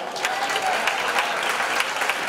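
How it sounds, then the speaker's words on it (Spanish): Audience applause welcoming a flamenco music group on stage, a steady, fairly close burst of many hands clapping with a few sharper claps above it. "¡Un aplauso!"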